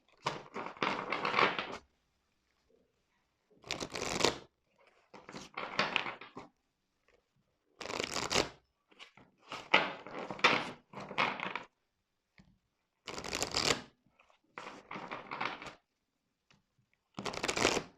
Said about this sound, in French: Je brasse un peu plus longtemps parce que ça fait longtemps que je ne l'ai pas utilisé cet oracle-là